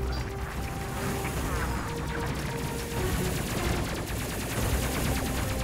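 Spaceship guns firing at enemy fighters during a Space Crew space battle, a dense, steady wash of rapid shots and crashes running throughout with no gaps.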